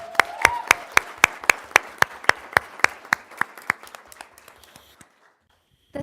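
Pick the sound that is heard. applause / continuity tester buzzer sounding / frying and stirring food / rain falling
applause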